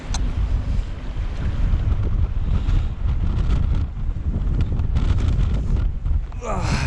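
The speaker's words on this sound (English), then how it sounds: "That the wind got us again." Strong wind roars and buffets a microphone steadily throughout, a loud low rumble with occasional gusts, outdoors near water during an e-bike ride.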